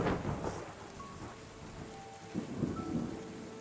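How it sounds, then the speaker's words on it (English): Rain pours steadily and thunder rumbles in a post-apocalyptic city builder game, a dense continuous wash with low booming swells and no talking. "But we'll have to wait till the rain stops."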